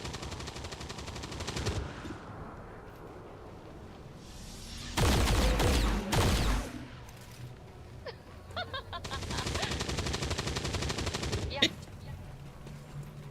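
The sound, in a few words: gunfire in the video game XCOM 2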